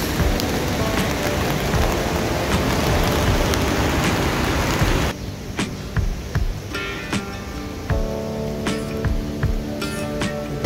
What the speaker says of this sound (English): So it has started to rain now.